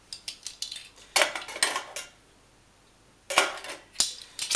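Metal pots of a Swiss Army Trangia storm cooker being handled, giving sharp close clinks and clatters in separate bursts with quiet gaps between them.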